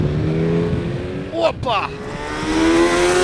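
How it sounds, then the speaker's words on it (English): A 2026 Kawasaki Z900 motorcycle engine spools up close by, its pitch climbing and dropping through a quick rev, while a man exclaims over it. "looking at this engine spool up"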